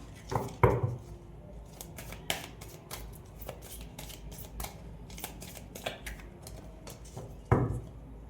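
Tarot cards shuffled and handled close up during a reading, a steady papery riffle with a few sharper slaps and snaps of cards being drawn and laid down, no talking.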